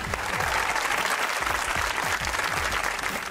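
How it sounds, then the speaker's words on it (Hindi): Audience applause on a Pakistani comedy talk show, a loud, dense, continuous roar of clapping from a large crowd, steady from start to finish. "तालियां।"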